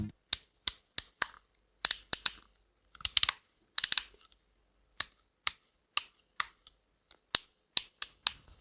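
Sharp plastic clicks from the five-position lever of a Kemei 1856 or Wmark 125 hair clipper, in uneven clusters, some single, some quick doubles and triples, close and crisp with silence between.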